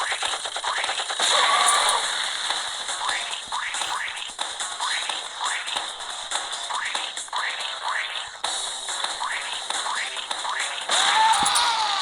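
Rapid bursts of video game gunfire aimed at a robot crackle repeatedly over a steady electronic hum, close and fairly loud, with brief pauses between volleys.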